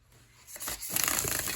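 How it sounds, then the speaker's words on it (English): Tarot cards riffle and flutter in a quick burst that grows louder, ending in a dense rustling cascade, close up with no talking. "it actually shuffles, let me show you, really nice right out of the box"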